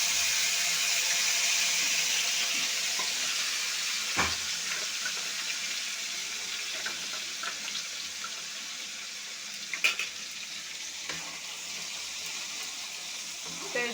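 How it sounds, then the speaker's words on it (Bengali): Ground onion paste goes into hot oil spiced with cardamom, pepper, cloves and cumin, and a broad hissing sizzle follows, easing slightly over time and punctuated by a few sharp spatters and utensil knocks; no speech. "পেঁয়াজ বেটে রেখেছিলাম সেটা এখন দিয়ে দেব।"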